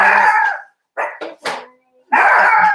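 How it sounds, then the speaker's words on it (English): A female dog barks close and loud in a quick burst of about five sharp barks with short pauses between them, the first and last drawn out longer. "Who is she barking at?"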